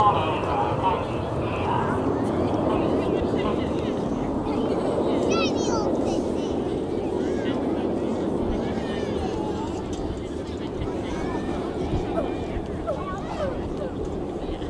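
Royal Air Force Red Arrows jets flying a display at the Midlands Air Festival: a distant, steady broadband roar that persists throughout, with wind buffeting the microphone.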